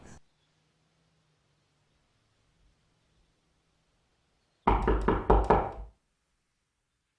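Four quick, firm knocks on a door sound in a scene from Breaking Bad, a loud close cluster of raps after several seconds of near silence.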